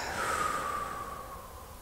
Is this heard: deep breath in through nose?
yes